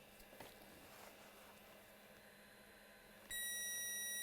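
A multimeter in diode mode, probing a shorted point to ground on an MSI RTX 3090 Ventus graphics card under repair, lets out a sudden loud continuous beep that starts partway through and holds to the end.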